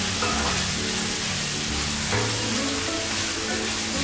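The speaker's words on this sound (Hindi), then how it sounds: "अब हम डाल देंगे शिमला मिर्ची भी इसमें, अब हम थोड़ा इसको हिला लेंगे हमारी सब्जियों को सब" Vegetables with capsicum are stir-fried in a pan for street-style chicken chow mein, giving a loud, continuous close sizzle with occasional shifts as the contents are tossed.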